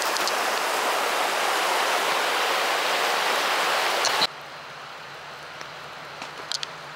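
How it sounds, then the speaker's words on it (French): A river flowing through a dense, almost jungle-like forest, a loud steady rush of water for about four seconds before cutting abruptly to a much quieter background with a few faint knocks. "on a la rivière juste ici"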